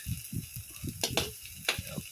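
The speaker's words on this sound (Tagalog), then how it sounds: "Gisa-gisa na lang natin muna yan." Pork offal for bopis sautés in a pan with a faint, steady sizzle, broken by soft rhythmic stirring scrapes and a few sharper clinks of the utensil against the pan.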